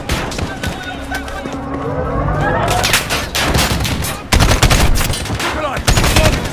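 Gunfire in the video game Call of Duty: Modern Warfare, with loud rapid bursts of automatic weapons and sharp single shots crackling over a busy battlefield din, growing more intense in the second half.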